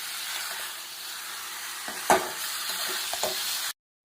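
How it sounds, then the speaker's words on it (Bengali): Chicken frying with onion, garlic and spices in a pan crackles in a steady close sizzle, broken by a few utensil scrapes and one sharp clink, then cutting abruptly to silence. "তা এখন মশলার উপর মাংসটা আমি দিয়ে দিলাম। এখন এটাকে ভালো করে কষাতে হবে।"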